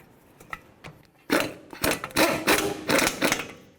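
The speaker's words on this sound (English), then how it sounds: "Now we're going to take our 18mm and just snug these up." An 18mm socket on a ratchet snugs up the rear brake backing plate bolts on a 1999-07 Chevy Silverado, giving a series of close, rapid ratcheting clicks in several short bursts after quiet handling noises.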